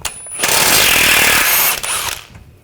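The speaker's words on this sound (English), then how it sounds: "18mm socket, take this nut off." A power tool with an 18mm socket whirs loudly for about a second and a half, removing a nut from a front control arm bolt on a Nissan Rogue, steady and close, then winds down and trails off into quiet.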